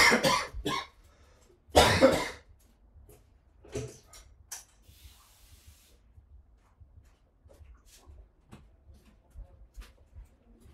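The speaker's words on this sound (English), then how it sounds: "Just had some cough." A man coughs in several sharp, loud bursts, with a longer harsh fit near the two-second mark, followed by faint throat noises, small clicks and quiet handling sounds in an otherwise still room.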